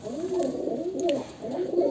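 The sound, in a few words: breeding pigeons cooing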